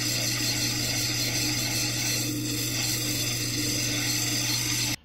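A rock is ground on a 180-grit wheel of a rotating machine, giving a steady close machine hum with an abrasive grinding hiss that runs unbroken for about five seconds before stopping.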